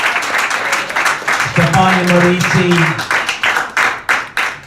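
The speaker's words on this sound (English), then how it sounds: "Give him a big round of applause." Audience applause at a comedy show for Julian Assange in Washington DC, with clapping running through the whole stretch under an announcer's loud voice and a cheer in the middle, the individual claps growing more distinct near the end.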